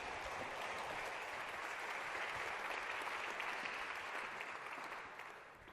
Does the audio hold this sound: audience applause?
yes